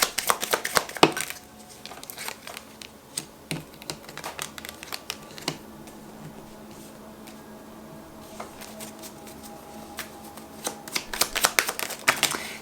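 Tarot cards are shuffled close by in a quiet room, with bursts of rapid riffling and flicking slaps at the start and end and a softer, steadier card rustle in between.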